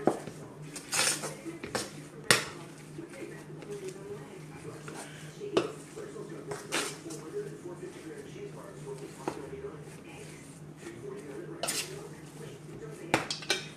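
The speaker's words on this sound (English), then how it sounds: "I'm gonna go ahead and mix my coconut into my mixture." Grated coconut is stirred into a sweet potato pudding mixture in a bowl, with a utensil clinking and scraping against the dish again and again while a person talks throughout.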